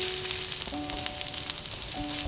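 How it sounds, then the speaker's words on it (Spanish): Egg nests fry in olive oil over medium heat, giving a steady, close crackling sizzle that keeps up throughout, with a faint tonal hum running underneath. "Freímos durante 2 o 3 minutos a fuego medio"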